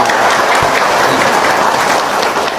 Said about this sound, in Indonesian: Kurang semangat tepuk tangannya.